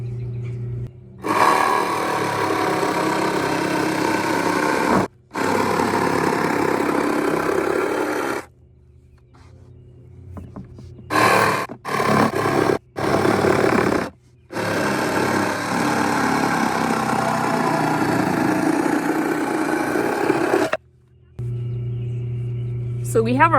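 Power saw cutting one-foot-square wooden board pieces for a flower press, running in several loud bursts of steady buzzing whine, separated by short pauses, with an idling hum between cuts.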